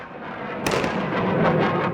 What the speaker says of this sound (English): the explosions have just been non-stop all morning